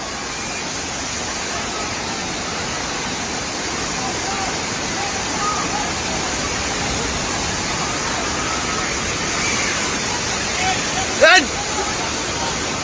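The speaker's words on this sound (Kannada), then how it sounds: "ಏಕಾಏಕಿಯಾಗಿ ನೀರು ರಭಸವಾಗಿ ಹರಿದು ಬರೋಕ್ಕೆ ಶುರು ಆಗ್ಬಿಡುತ್ತೆ." A waterfall in Bihar, swollen by heavy rainfall, roars continuously with a loud, dense wash of rushing water. A brief sharp sound cuts through the roar near the end.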